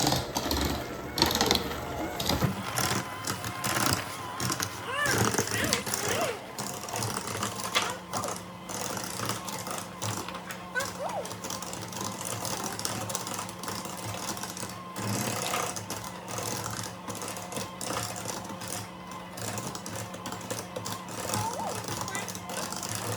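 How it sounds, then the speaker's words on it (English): Eggs are mixed for a seven-layer cake in a kitchen, with a continuous mechanical whirring and rattling that runs throughout, mixed with voices. "let's mix up the eggs."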